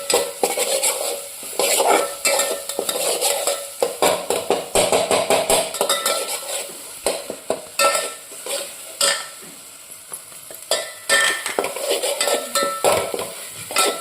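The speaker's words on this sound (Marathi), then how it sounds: "गरम मसाला आणि हे जिरेपूड हे टाकून घ्या असं व्यवस्थित चांगलं भाजूया" A spoon scrapes and clatters in a pan as garam masala and cumin powder roast in oil for a Kolhapuri pea misal. The strokes are irregular, with a soft sizzle underneath and no speech.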